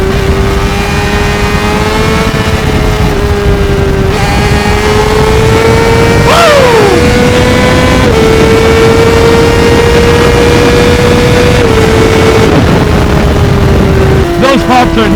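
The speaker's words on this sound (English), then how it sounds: "Those pops are nuts, man. I hope you guys can hear at least some of them. Every time I let off the throttle, basically you get either one pretty big bang or two" Honda CBR600RR motorcycle riding on twisty roads, engine droning loud and close with pitch shifts as the throttle is rolled on and off. Brief pops and bangs are buried in the engine and wind roar.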